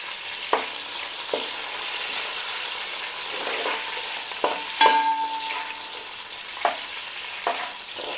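Whole spices and peppercorns fry for chicken biryani, a soft steady sizzle broken by sharp stirring clinks and taps from the pan.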